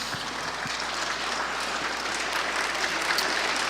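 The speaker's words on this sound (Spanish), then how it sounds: "dale un aplauso fuerte al Señor" A congregation claps hard and steadily at a church conference, a dense, even wash of applause that fills the room throughout with no voices over it.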